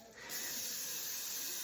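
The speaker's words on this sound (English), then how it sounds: "So now I have a 9x13. I'm gonna give it a quick spray." A short burst of cooking spray hisses onto a 9x13 baking pan, a close, soft steady spray lasting under two seconds.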